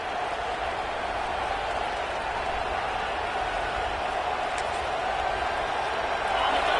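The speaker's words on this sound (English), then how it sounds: "The roar of the crowd trying to fuel this defense to keep them pinned in their own end." A packed football stadium crowd at Nebraska vs Utah State roars steadily as the home defense pins the offense deep, a dense, loud, unbroken wall of noise holding for the whole stretch.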